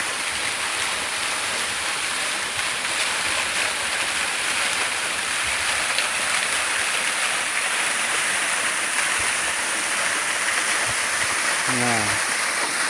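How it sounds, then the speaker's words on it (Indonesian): The Jumok waterfall in Magetan pours down in a steady, loud, broadband roar of falling water that fills the whole stretch without a break, with only a faint brief vocal sound near the end. "Air terjun Jumok."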